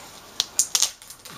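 Tape peeled from the surface of an LM190E08-TLL3 LCD panel gives a few sharp, crackling snaps in close succession, each crisp and near, with quiet pauses between them.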